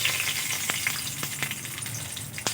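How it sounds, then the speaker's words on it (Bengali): Bay leaves and whole garam masala sizzle steadily in hot oil for a vegetarian curry, a continuous close frying hiss broken by a few sharper pops and crackles, with no talking. "ফোড়নে দিয়ে দেব দুটো তেজপাতা, দিয়ে দেবো গোটা গরম মশলা"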